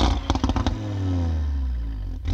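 Audi RS3 with exhaust flaps open: a few sharp crackling bursts, then a loud, sustained engine note that swells and slowly falls in pitch as the revs die away.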